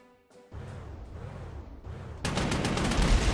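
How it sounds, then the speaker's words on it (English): Artillery fire in the Panzer Campaigns wargame rumbles out as a run of heavy, booming blasts with rolling echoes, swelling into a dense, loud barrage near the end. "It's artillery. And it's not like small, soft artillery. It's big, bad artillery."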